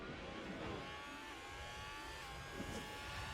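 A Ferrari Formula 1 car overtakes during a French Grand Prix in F1 Manager 22, a steady high-pitched engine whine rising and holding as it passes, faint and without voices.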